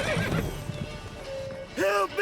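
Roach the horse whinnies in The Witcher 3, a loud close neigh rising and falling near the end, with faint hoof clops and a voice earlier.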